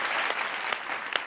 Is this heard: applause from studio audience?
yes